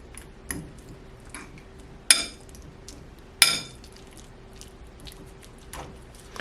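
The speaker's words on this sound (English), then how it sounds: "I'm just gonna mash this up with a fork." A fork mashing a roasted medium sweet potato in a bowl, a handful of sharp metallic clinks and taps spaced irregularly over a quiet background, two louder scrapes standing out.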